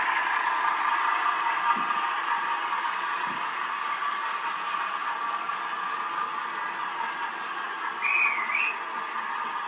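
A high, steady toy steam engine whistle tone rings out over a constant hiss, with a brief rising chirp near the end.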